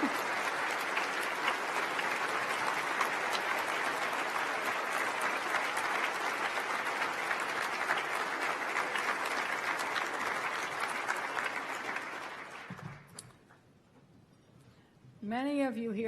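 A large audience gives a loud, sustained round of applause for First Lady Michelle Obama and the political spouses at an awards evening. The clapping fades out near the end, and a voice begins to speak.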